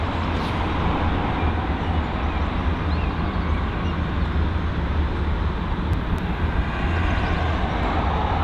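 An arriving airliner at London Heathrow airport produces a loud, steady, broad engine roar that stays constant throughout, with no talk.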